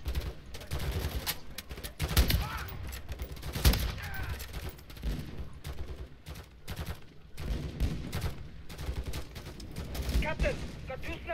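Sustained gunfire from the Call of Duty Modern Warfare III campaign: dense, overlapping bursts of automatic weapons and single shots continue throughout, with voices talking over the fighting.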